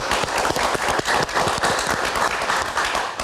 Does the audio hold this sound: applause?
yes